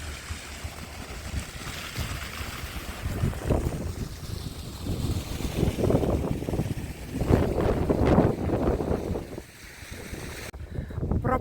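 Wind by the sea in Odesa buffets the microphone in gusty, rumbling waves that swell and ease, with a watery rushing texture underneath and no one talking.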